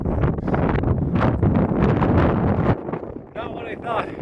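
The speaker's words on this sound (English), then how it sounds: "it's freaking windy up here." Strong, gusting wind buffets the microphone on an exposed mountain peak, a loud, roaring rumble that eases briefly near the end, with a person talking over it.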